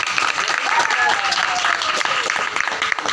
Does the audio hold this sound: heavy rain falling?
no